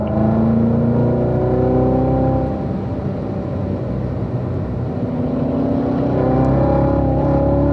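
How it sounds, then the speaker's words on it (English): Race car engine held loud and close through a downshift and braking into a turn, its harmonics sliding down in pitch, then a steady mid-corner drone before the revs climb again near the end. "Again, we're going down a gear, coming into turn 1 here"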